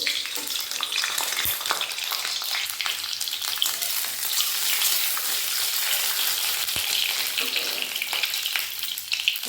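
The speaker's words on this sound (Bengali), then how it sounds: "তেলের মধ্যে দিয়ে দেবো ডিমগুলো" Boiled eggs dropped into hot mustard oil in a kadai, giving a dense, continuous close-up sizzle with sharp crackles and a couple of spatula knocks, steady and loud throughout.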